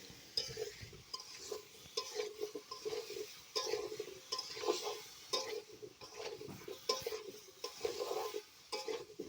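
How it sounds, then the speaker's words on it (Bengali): Vegetables, potato and eggplant, being stirred with dry spices and a little water in a pot for fish curry, a soft rhythmic scraping and clinking repeating steadily, fairly quiet under a faint sizzle. "সবজির সঙ্গে মশলা ভালোভাবে নেড়ে চেড়ে কষে নেব"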